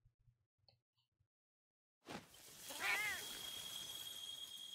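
A cat meows in a video game trailer for Monster Hunter World, a short rising-and-falling call over a steady background tone after a quiet opening with a few faint clicks.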